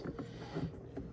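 Turning the screw-top lid of a waterproof storage cubby fitted to a Pelican paddle boat, giving a quiet series of small plastic clicks and ratcheting ticks over about a second, close and faint.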